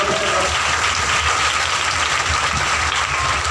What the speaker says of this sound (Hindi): ताली बजा